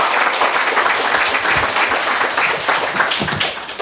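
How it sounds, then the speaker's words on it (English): Conference audience at a panel on humanitarian and development aid applauding: loud, dense, sustained clapping from a large crowd, steady throughout without a break. "Maybe you shouldn't have applauded until I've tried to make my summary."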